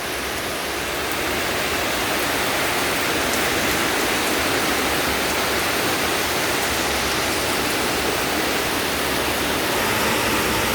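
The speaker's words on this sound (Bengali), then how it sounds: "দেখুন বাইরে কি বৃষ্টি হচ্ছে অঝরে বৃষ্টি হচ্ছে" Heavy monsoon rain pours outside in a dense, unbroken roar of hiss and patter, loud and steady from start to finish with no speech.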